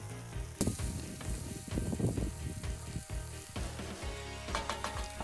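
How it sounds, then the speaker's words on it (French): Shallots and onions hit hot oil in a casserole, producing a loud continuous sizzle with stirring scrapes and a few clanks, close up and without talk. "Ensuite, ajoutez le mélange échalotes tassées et oignons."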